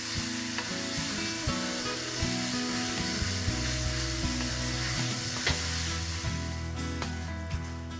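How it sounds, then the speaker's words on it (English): Pork mince sizzles steadily in a hot pan while a utensil breaks it up, giving repeated scraping knocks and clacks over the constant close frying hiss, with no talking. "now I'm going to put my pork mince in. Now with the pork mince, it's important to break it up and cook it through"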